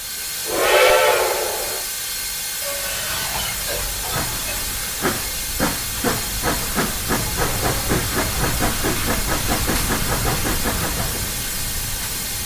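A K27 narrow-gauge steam locomotive in Train Simulator, on the Rio Grande Southern, gives one short loud whistle blast over steady steam hiss, then settles into a rhythmic run of evenly spaced chuffs that continues to the end.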